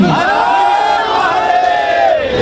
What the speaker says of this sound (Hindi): उस नाम को सम्मान देते हुए आपकी तालियां, आपकी जयघोष होनी चाहिए। जयकारा वीर बजरंगी।